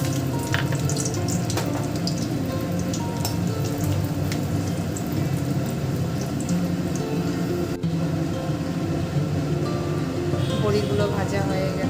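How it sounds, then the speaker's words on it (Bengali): Lentil dumplings (bori) frying in hot white oil in a wok, giving a loud, steady close-up sizzle and crackle that runs throughout with occasional stirring clinks. "এখন বড়িগুলো ভেজে নেব।"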